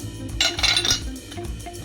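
A kitchen serving set being handled, with a cluster of bright metallic clinks and taps that come close together, nearby and alone.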